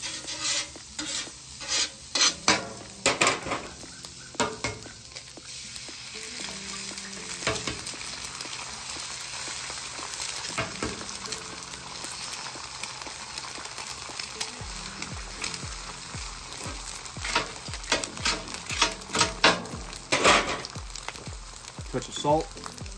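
Butter sizzling on the low part of a hot hibachi griddle alongside eggs, a steady crackle with spatula scrapes and taps throughout, heard alone without talk.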